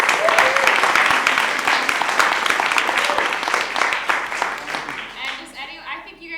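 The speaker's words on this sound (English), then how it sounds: "Let's give a round of applause for our" Audience applause at a festival preparation workshop, dense and sustained clapping for several seconds that thins toward the end, with some voices mixed in.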